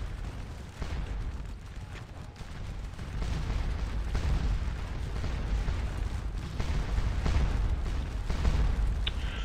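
Canister artillery fire in the Scourge of War Waterloo video game, heard as a steady low rumble of booming cannon and musketry with overlapping bursts throughout, no voices.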